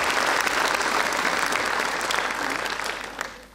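Audience applause at a book-reading award ceremony in Nilüfer, welcoming the mayor to the podium: dense, steady clapping from a large crowd, close and sustained, thinning slightly toward the end.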